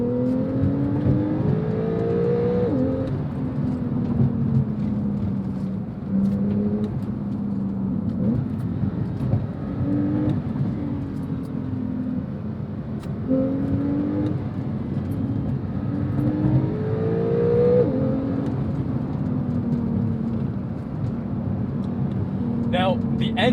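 A Porsche 911 GTS Cabriolet of the 997.2 generation with a PDK gearbox accelerating, its engine revving in rising sweeps broken by quick gear shifts, heard from inside the car while someone talks over it.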